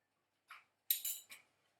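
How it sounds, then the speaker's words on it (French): Whisking ricotta in a bowl, a few short scraping clinks of a whisk against the bowl in quick bursts, close and fairly quiet with no talking. "Donc on va bien fouetter notre ricotta."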